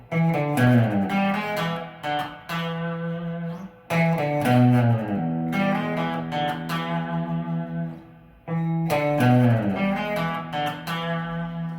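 An electric guitar plays a solo from a live performance in three distinct phrases separated by short pauses, with clear sustained notes and bends in a clean, close tone.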